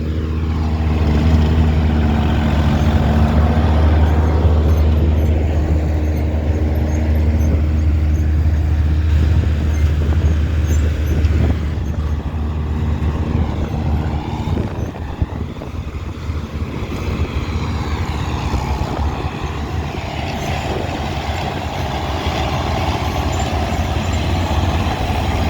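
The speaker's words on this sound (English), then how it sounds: "That's a handsome restore tractor." A restored vintage tractor engine drones steadily and loudly through silage season work in a field, a constant low rumble with no pauses and no voices.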